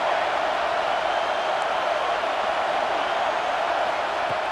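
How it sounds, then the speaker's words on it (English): Broad crowd roar fills a stadium at a Nebraska football game as fans make noise for a red zone defensive stand, a dense, constant wash with no distinct claps or voices. "And here comes the noise. This crowd is trying to inspire this defense to make a big red zone stop."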